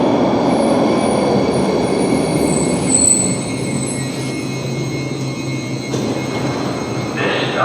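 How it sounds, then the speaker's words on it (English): A Newark subway train pulls into Washington Street station with a loud, steady rumble and squealing wheels, then eases off as it slows, the sound close and continuous with no talking. "And here comes the train."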